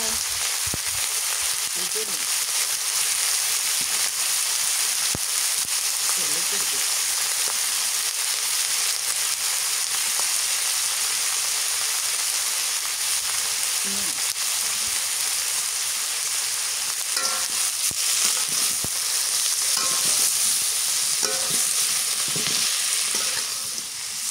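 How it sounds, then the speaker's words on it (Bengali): Prawns fry steadily in oil for a lumbar-length stretch, a continuous bright sizzle with occasional stirring scrapes, close and even throughout, with a few faint voices in the background. "চিংড়ি মাছটা একটু তেল দিয়ে ভাজে নেই ভালো করে।"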